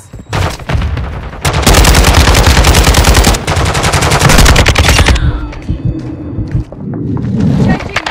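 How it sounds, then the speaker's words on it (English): Call of Duty: Modern Warfare II combat with loud, sustained automatic gunfire in long rapid bursts, a Semtex grenade in the mix, and a heavy thump near the end, all close and dominant. "Throwing SEMTEX!"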